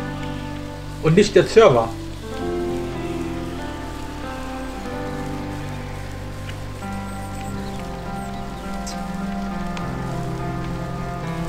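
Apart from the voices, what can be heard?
rain from a rain mod in a Minecraft-like video game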